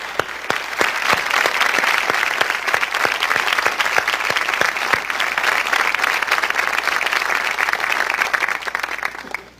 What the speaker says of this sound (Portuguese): eu peço a todos uma salva de palmas para os candidatos aqui presentes